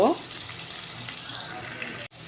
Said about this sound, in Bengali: আলুগুলোকে এবার আমি একটু লাল করে ভাজবো